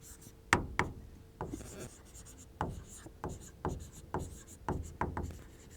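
Chalk or marker scratching across a classroom board in short, rhythmic strokes, about a dozen distinct scrapes and taps close up, with no talk over them.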